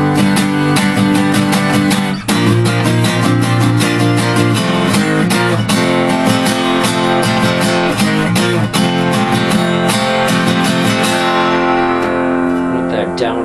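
Acoustic guitar plays four bars of a song, loud and close, with steady rhythmic strums and ringing chords throughout, fading out at the end.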